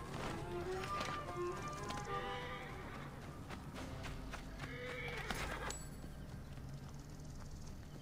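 A horse whinnies and snorts amid sound effects in Assassin's Creed Origins, with hoof clatter and a busy, continuous background mix.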